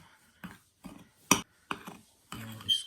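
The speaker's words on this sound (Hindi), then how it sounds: "इसको अच्छी तरह मिक्स कर लेंगे" Spoon mixing two spoonfuls of beaten egg into a rasmalai mixture, giving a series of about six short clinks and scrapes against the bowl at uneven intervals, close and fairly quiet.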